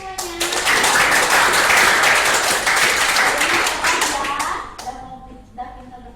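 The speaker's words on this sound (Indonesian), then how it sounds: "Tepuk tangan semuanya" A room of nursing students and audience applauding at a sex education counselling session, a burst of loud close clapping that fades out after about five seconds, followed by faint voices.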